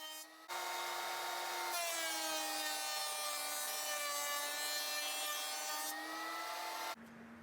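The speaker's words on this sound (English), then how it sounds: "I moved over to the planer for those also." A wood planer smooths wooden chair legs, a loud steady whine with rising tonal harmonics that holds for several seconds between brief quieter moments at the start and end, with no talk over it.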